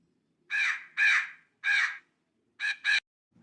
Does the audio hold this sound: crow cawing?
yes